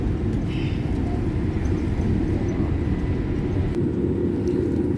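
Inside a Boeing airliner on an early morning flight, a steady, loud low cabin drone of engines and airflow runs unbroken throughout.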